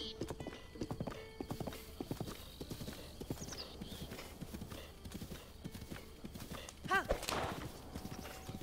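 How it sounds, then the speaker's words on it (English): Horse hooves gallop in a steady clip-clop rhythm in Zelda: Breath of the Wild, with a short whinny near the end and a person talking throughout. "Nice galloping, Peanut."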